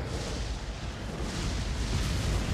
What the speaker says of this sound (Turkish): Sonra patlıyor.